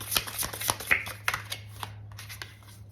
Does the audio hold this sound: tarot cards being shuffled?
yes